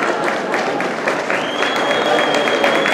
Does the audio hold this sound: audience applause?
yes